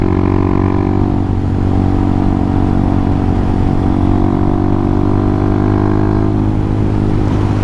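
Steady close drone of a Honda Hawk 250 motorcycle engine while riding, holding an even pitch with a faint rise and dip toward the end, under wind rush.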